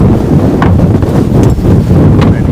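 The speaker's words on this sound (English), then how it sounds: "This wind is like super gusty." Gusty wind buffets the microphone outdoors at night at a cabin framing site, producing loud, continuous rumbling blasts that nearly fill the clip, with no talk.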